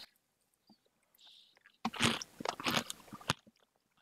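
Crunchy fried chicken is chewed close to the mic, a burst of crisp, wet crunching bites lasting over a second after a quiet lead-in.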